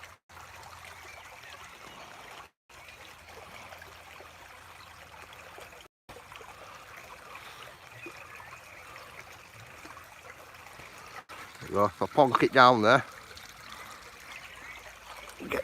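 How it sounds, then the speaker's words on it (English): A river flows past in a steady, soft wash that runs the whole time at low level. Someone talks briefly, and a short burst of bird chirps rises near the end. "get some river passing by"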